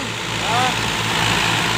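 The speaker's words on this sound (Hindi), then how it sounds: "इनका फार्म बीस पचास ले गया खींच के देखे इंडो फार्म का दम क्या शानदार जोर लगा रहे" An Indo Farm 2050 tractor, a 2006 model, strains in a chain tug-of-war against an HMT 4511, its engine a loud, steady droning roar throughout.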